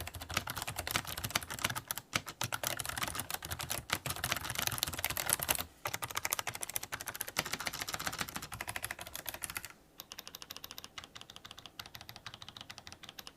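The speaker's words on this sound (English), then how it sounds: "here's a quick typing test for y'all to hear what it actually sounds like" Steady, fast typing on a Razer Ornata V3 hybrid membrane keyboard with soft, muffled keystrokes in a continuous stream, close up, with a couple of brief pauses.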